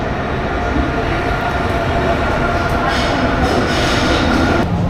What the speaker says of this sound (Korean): 지금 열차가 왔습니다.